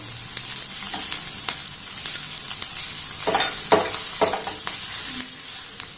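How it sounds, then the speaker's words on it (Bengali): Chili, onion and garlic sizzle in a pan under a steady hiss, with scattered clicks and a few louder scraping bursts from stirring partway through. "লঙ্কার পেঁয়াজটাকে একটু হালকা করে আমি নাড়াচাড়া করে ভেজে নেব"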